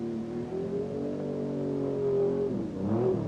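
A 1984 Audi Quattro rally car drives a British stage, its engine holding a steady droning note before shifting pitch near the end, fairly close and continuous with no talk.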